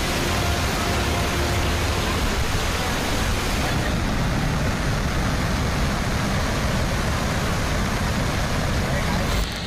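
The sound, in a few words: heavy rain and flooding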